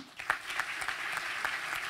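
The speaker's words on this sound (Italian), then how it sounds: "chiedere un applauso per i ragazzi dell'Istituto Superiore Iris Versari di Cesano Maderno" School audience applauding at an event, a short, faint burst of scattered hand clapping heard from a distance.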